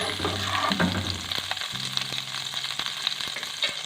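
Butter sizzles and fries steadily in a pan over the heat, with a continuous crackling hiss, occasional stirring scrapes and a low hum behind it.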